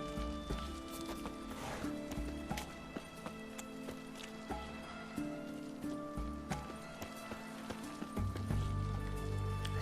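Horse hooves clip-clop in The Witcher 3: Hearts of Stone, a steady trotting rhythm over game ambience and low tones, with a brief voice mixed in.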